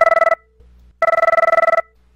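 A ShoreTel IP desk phone rings with an incoming second call, giving two loud electronic trill bursts separated by a short pause, with no talking.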